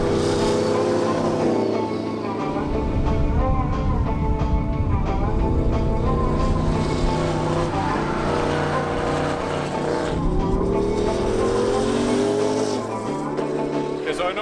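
Boost-controlled race car with four wastegates lapping a track, engine droning loud and close with rising and falling revs and gear changes, a voice talking over it.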